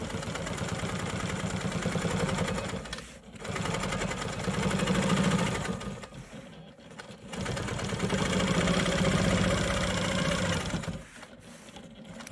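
A Quilt Maker Pro 20 quilting machine stitches in the ditch of a rainbow quilt block with a steady, near motor hum and rapid needle chatter. The sound is broken by brief dips where it slows.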